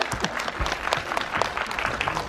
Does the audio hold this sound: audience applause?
yes